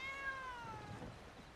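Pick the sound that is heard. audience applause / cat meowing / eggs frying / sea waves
cat meowing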